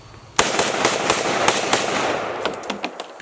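A single test shot from an AK-47 rifle, one sharp loud crack followed by a ringing, rattling echo decaying over a few seconds.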